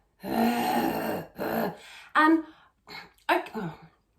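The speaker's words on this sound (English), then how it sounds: "is to clear your throat" A few rough, gravelly throat-clearing sounds in short bursts, close and fairly loud, separated by brief pauses.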